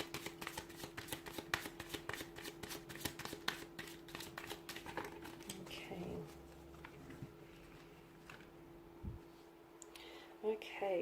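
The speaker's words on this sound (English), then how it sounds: "give the cards a shuffle" Tarot cards being shuffled by hand give a rapid run of crisp riffling clicks for several seconds, close and clear, then slow into a few softer card taps and handling noises in a quiet room.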